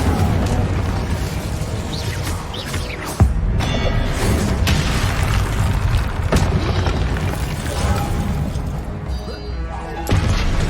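The Incendio fire spell from the wizarding game Hogwarts Legacy bursts three times, about three seconds apart. Each is a sharp, booming whoosh over a constant bed of loud, dense ambient noise and game effects.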